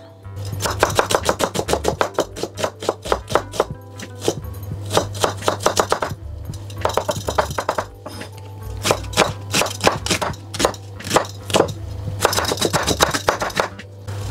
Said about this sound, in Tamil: அதே மாதிரி ஒரு வெங்காயம் எடுத்திருக்கேன் அதையும் நல்லா சின்னதாக கட் பண்ணுறேன்